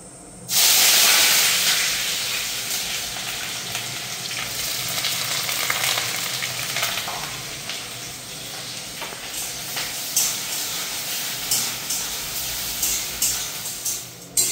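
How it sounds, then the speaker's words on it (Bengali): Chopped onion hits hot oil after whole-spice tempering, launching a loud, steady sizzle that hisses and crackles continuously, easing slightly over time with occasional sharper pops and stirring scrapes near the end; no one speaks. "এখন আমি কুচিয়ে রেখেছিলাম সেই পেঁয়াজটা দিই।"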